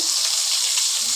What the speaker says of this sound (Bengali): আমি উল্টে পাল্টে ভেজে নেব